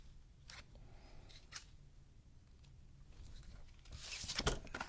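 A few soft, sharp snips of scissors cutting magazine paper close by, ending in a louder burst of cutting near the end; quiet, with no talking.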